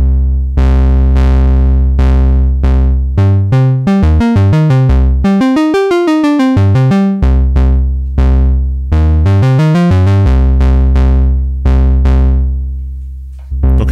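Square wave from a Eurorack synth runs through a Doepfer analog filter, a loud sequence of buzzy notes whose tone sweeps and warbles as the filter opens and closes, each note decaying, with a brief bright fluttering passage in the middle.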